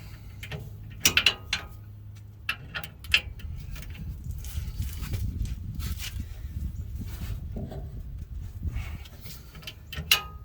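A ratchet tightening 18 mm brake caliper bolts on a Chevrolet Silverado rear brake, with a few sharp metallic clicks and clanks followed by a rapid ratcheting whir, close and moderately loud.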